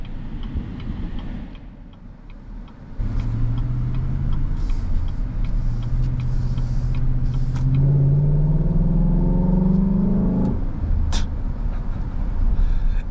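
A 2018 Chevrolet Silverado Harley-Davidson truck's engine idles, then rises into a gruff, rumbling rev that climbs in pitch before settling back, loud and close, with a turn-signal clicking steadily throughout.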